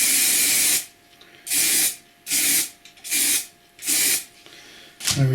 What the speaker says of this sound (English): It's a 3M display mount spray adhesive.